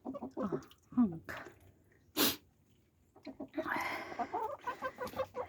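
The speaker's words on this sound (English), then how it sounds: "Five hens and one rooster, a young rooster." Several hens and a young rooster cluck and squawk close by in a snowy Ohio yard, bursts of short calls and a sharp crow-like squawk scattered irregularly, with a louder flurry of clucking toward the end.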